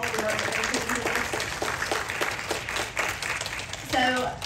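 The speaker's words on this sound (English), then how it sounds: "Can we just give them a hand clap for all the work they've been doing?" An audience at a church gathering gives a round of hand-clap applause, a dense patter of many hands that holds steadily for a few seconds, heard at moderate distance with some voices mixed in.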